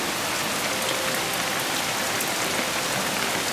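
Steady rain pours down in a dense, even hiss with no break, close and fairly loud, and no voices.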